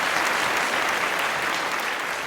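At a fishing conference, the audience claps to welcome two speakers: steady, full applause from many hands at moderate loudness, continuous from start to finish with no talk.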